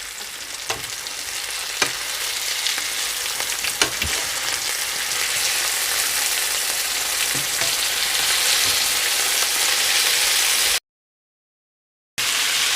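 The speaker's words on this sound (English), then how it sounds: "it's been about 4 minutes that the lamb chops have been cooking away, and we're just going to turn them over now" Masala lamb chops sizzle steadily in a hot pan, a loud, dense, continuous frying hiss with a few faint knocks of utensils, broken briefly by a short gap near the end.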